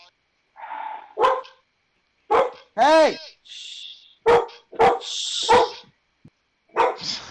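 A dog barks in a series of sharp, separate barks spread unevenly over several seconds. A person shouts once among them.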